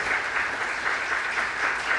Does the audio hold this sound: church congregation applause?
yes